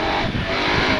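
A 2023 KTM 1290 Super Adventure S motorcycle pulls hard under acceleration on the road. It gives a continuous loud engine roar mixed with wind rush, recorded close from the rider's position.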